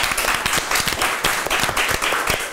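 An audience applauds steadily at a Ukrainian talk show, the dense clapping loud and continuous from start to end.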